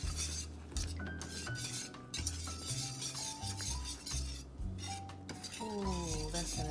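Spoon clinking and scraping through sausage gravy in a metal pan, steady stirring clatter up close with no talk over it, under a backing music track.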